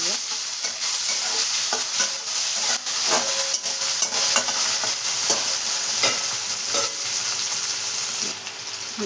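Cut potatoes are mixed into green cabbage in a hot pan, a steady loud hiss of frying with irregular scraping and tapping stirs, easing slightly near the end.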